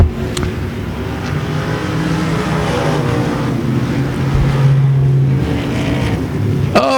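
Race cars roar around the Devil's Bowl Speedway oval, a continuous loud engine drone with rising and fading pitch as cars pass, and a sharp burst of noise near the end, without talk.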